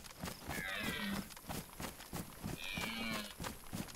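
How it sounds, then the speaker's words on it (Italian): Two long, low cow moos sound one after another at a moderate distance in the survival game DayZ, over a busy background of clicks and game noise, with no talking. "È una mucca, pare."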